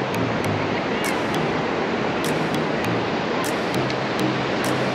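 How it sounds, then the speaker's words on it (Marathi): Sea surf breaks continuously at Bhatye beach in Ratnagiri, a steady broadband wash of waves with wind buffeting the microphone and a few brief sharp bursts, no talking. "आम्ही भाटेच्या समुद्रकिनारी आलो आहे रत्नागिरीमध्येच"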